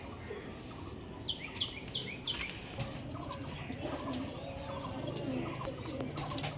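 Pigeons of the fulsira and kalshira breeds, male and female birds being let go, give soft repeated coos and short chirps at a moderate distance, faint and scattered over a low background.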